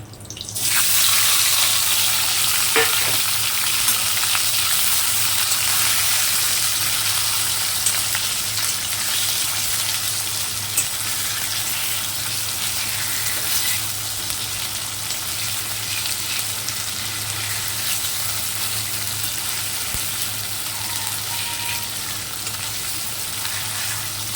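Hilsa fish frying in hot oil with white and black cumin, a loud, steady sizzle that begins abruptly and continues unbroken for the whole stretch, with no talk over it.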